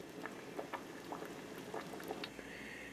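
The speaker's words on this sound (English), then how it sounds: "put it back in the soup, added the kale, bring it back to a boil, and let that kale get soft" Ham hock and bean soup with kale and vegetables boiling in a pot, quiet bubbling with scattered soft pops and blips, close by and with no talk.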